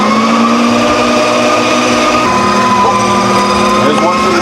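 An electric meat grinder works pork fat for sausage, giving a loud, steady, high-pitched motor whine with a constant hum that runs unbroken throughout.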